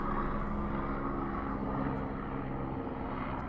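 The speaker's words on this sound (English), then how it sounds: "There's a helicopter going over the top here," A helicopter passes overhead with a continuous, fairly distant engine and rotor rumble that stays steady and moderately loud throughout, with no talking.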